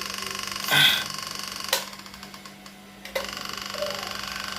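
A small electric fan motor, just repaired, whirs with a rhythmic rattling tick from something touching it, broken by a few sharp clicks and knocks nearby.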